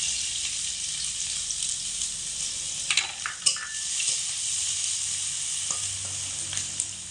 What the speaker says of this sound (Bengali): তেল ভালো করে গরম হয়ে গেলে এখানে দিয়ে দিতে হবে পেঁয়াজ কুচি